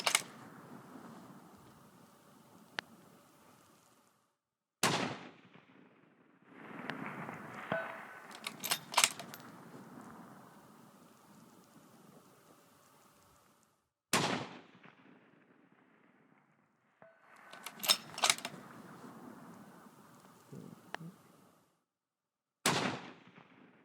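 Rifle shots firing Sierra 6mm 105-grain MatchKing bullets in snow: three sharp, loud cracks spaced several seconds apart, each with a short rolling echo, and quiet wind noise and rustling in between.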